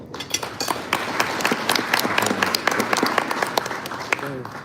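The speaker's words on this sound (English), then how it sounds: "Let's give her a round of applause." Banquet audience at a CAIR Minnesota dinner giving a round of applause, scattered uneven clapping with individual sharp claps standing out, and voices talking and calling out over it.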